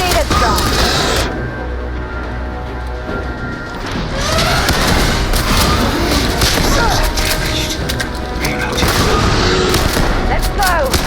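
Dense bursts of gunfire in Starfield, rapid shots and fusillades over a loud, busy combat din, with voices shouting at times.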